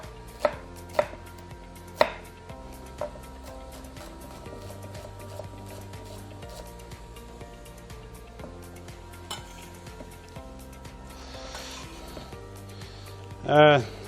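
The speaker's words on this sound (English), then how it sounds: "we're going to add a little onion to that," Red onion being chopped on a board, a few sharp knife strikes early on, then quieter cutting under kitchen background noise, with a brief louder clatter near the end.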